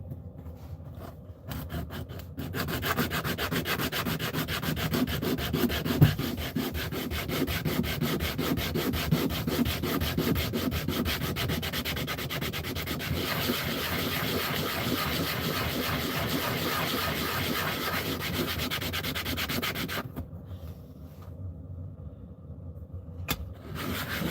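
A small wooden back scratcher piece pressed against a powered flat sanding board gives a continuous loud abrasive rub for about twenty seconds, starting and stopping abruptly with short quiet gaps at each end.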